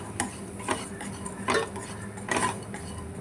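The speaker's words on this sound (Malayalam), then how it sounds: "നല്ലോണം ഇങ്ങനെ ഇളക്കി മിക്സ് ചെയ്തെടുക്കാം" Dried fish being stirred and mixed with vinegar in a pan, heard as a few soft scraping strokes of a spoon against the pan with a faint sizzle underneath, close and alone.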